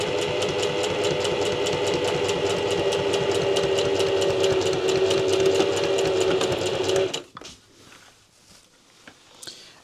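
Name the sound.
sewing machine top stitching a quilted pencil case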